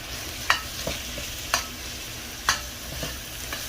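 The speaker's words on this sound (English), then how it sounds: "now we're going to add in the beef, and we're just going to brown this up" Beef browning in a hot pan while it is stirred, giving a low steady sizzle under sharp scraping clicks and clatters at irregular moments, close by with no talking.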